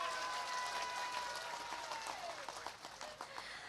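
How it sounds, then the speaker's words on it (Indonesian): An audience at a Halal Bil Halal gathering in Kebanaran, Indonesia gives a short burst of scattered applause that stays fairly soft and thins out toward the end. "Tepuk tangan rumiyin."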